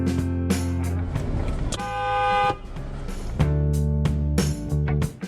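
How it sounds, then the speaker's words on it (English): A car horn honks repeatedly in road traffic, loud and close, with several long blasts and shorter toots over engine noise. "But a guy walking down the sidewalk got offended by the honking that had nothing to do with him."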